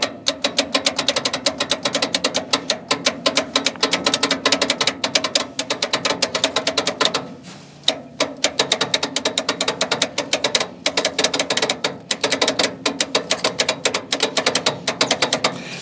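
Starter on an old Barko log loader, left sitting for 26 years, clicking in a rapid, steady mechanical chatter that fails to turn the engine over, loud and close with one brief pause midway.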